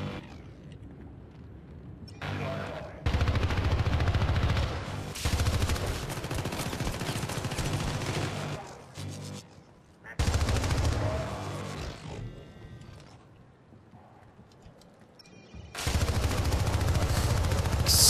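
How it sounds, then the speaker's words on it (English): Sustained automatic gunfire from the video game Syndicate comes in long, loud bursts broken by short pauses, dense and close throughout. "Just keep shooting, just keep shooting."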